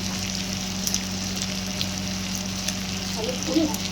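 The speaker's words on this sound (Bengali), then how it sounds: "মশলাটাকে একটু ভেজে নিতে হবে" Ground cumin and coriander fry in a pan for a catfish curry, a steady close sizzle with a low hum beneath and a few soft stirring taps.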